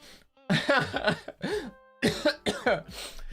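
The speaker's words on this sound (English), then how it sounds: "Sorry about the cough." A streamer coughs and clears their throat close to the microphone in several harsh, voiced bursts, with brief pauses between them.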